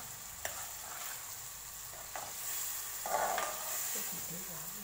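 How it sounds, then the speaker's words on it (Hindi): Brain masala is gently stirred with a spoon in a pan, giving a steady, fairly quiet sizzle with occasional soft scrapes and taps from the spoon. "बस इस तरीके से ना थोड़ा थोड़ा अपनी चम्मच चलाना है, ज़्यादा नहीं चलाना"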